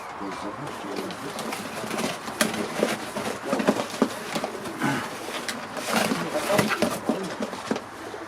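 Racing pigeons, strong-flying birds handed over for a competition loft, coo and rustle nearby in a busy, echoing loft, with soft wing flutters and scattered calls throughout and a person talking faintly in the background.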